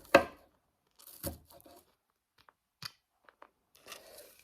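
A knife chops through food in a few scattered strokes, each a short, crisp crunch with quiet pauses between them, close and fairly soft.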